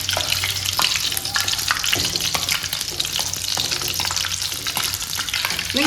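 Cinnamon, cloves and bay leaf crackle in hot oil as mutton curry begins, producing a loud, close sizzle mixed with frequent stirring scrapes and small pops.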